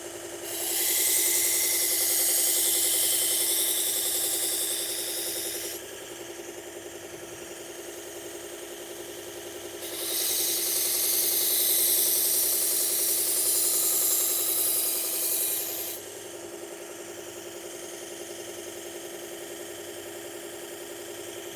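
Kitchen knives ground on a powered sharpener, with a steady motor hum under two long bursts of bright, hissing grinding contact, each lasting several seconds and separated by quieter running stretches, close and loud.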